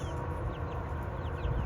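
Chickens cluck and squawk in a busy, overlapping flurry as they chase one another for a tomato, steady and close throughout.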